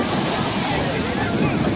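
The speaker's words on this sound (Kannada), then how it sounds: "ಸಂಜೆ ಆದ್ಮೇಲೆ ಅಲೆಗಳು ಸಿಕ್ಕಾಬಿಟ್ಟೆ ಜೋರು ಹೊಡಿತಾ ಇದೆ." Big evening waves at Mahabalipuram beach surge and crash in a loud, continuous roar, with heavy wind buffeting the microphone and a voice partly under the surf.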